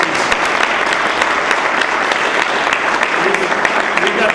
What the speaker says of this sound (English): let's just welcome him with a good round of applause.